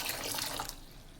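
Water pours into a pressure cooker holding soaked chickpeas for chole masala, a brief steady splashing rush that fills the clip and fades toward the end, with no talking.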